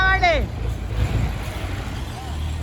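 Tractor engine running at a house construction site, a steady low rumble throughout, loud and close, with a brief rising tonal whine at the start and people talking nearby.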